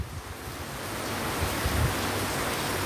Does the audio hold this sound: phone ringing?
no